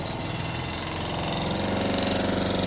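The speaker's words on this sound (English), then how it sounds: "Got Josiah running the jackhammer over there" A jackhammer breaks up concrete nearby, a steady, loud mechanical pounding with a fast rhythmic pulse that holds without pause.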